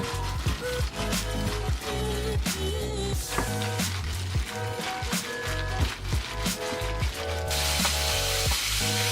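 Marinated beef sizzles and fries in a lightly oiled pan while making Korean tteokbokki with bulgogi, a steady close hiss running throughout with busy crackling, and background music underneath.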